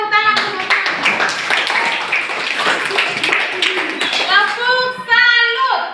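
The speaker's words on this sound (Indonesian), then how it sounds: "Oke, kita berikan tepuk tangan semua." Classroom audience applause for a teacher's differentiated-learning game lesson, a busy burst of clapping hands lasting throughout, with voices calling out over it and a tonal chant near the end.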